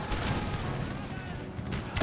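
Volleys of musket fire ring out on an Empire: Total War battlefield, a dense stretch of overlapping shots and booms under battle noise with a voice talking over it.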